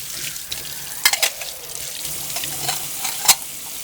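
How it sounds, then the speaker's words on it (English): Tap water runs steadily over OrangeX juicer parts as they are rinsed by hand, with intermittent splashes and a few sharper knocks against the sink. "I'll just basically run water through the machine using my hand"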